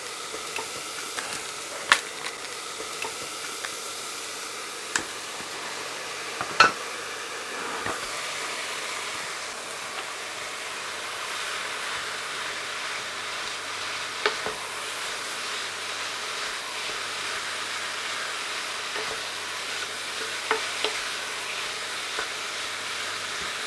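Lean steak mince browning in a hot pan gives a steady, close sizzle and hiss, broken now and then by sharp scrapes and clicks of stirring, with no talking over it.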